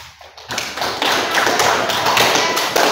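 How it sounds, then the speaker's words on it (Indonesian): A classroom group claps for a student discussion group during an Islamic religious education teaching session: dense, steady applause that begins abruptly after a quiet half-second and stays loud to the end. "Mari kita berikan aplaus untuk kelompok 3."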